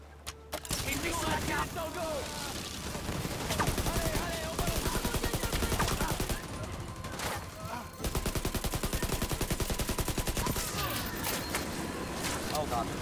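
Rapid sustained minigun fire in The Division 2, a dense rattling barrage running nearly continuously with brief breaks, loud and close.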